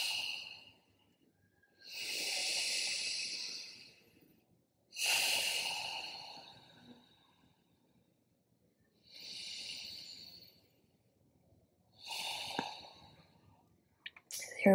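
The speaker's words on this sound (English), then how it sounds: "2 huge breaths here." Four slow, deep breaths taken during a beginner vinyasa yoga flow, each a long airy inhale or exhale close to the microphone, separated by quiet pauses, with no talking.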